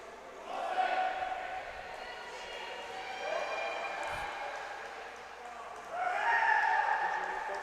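Spectators at a 2019 PowerHockey Canada Cup game between Calgary Selects and Michigan Mustangs yell and cheer in swelling bursts, fairly distant and moderate, louder at the start and again near the end, with an announcer talking over them.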